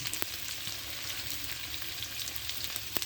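Salt, turmeric and dried chili powder frying in a hot pan for a potato-taro dish, a steady bright crackling sizzle with scattered pops, close and continuous without any talk.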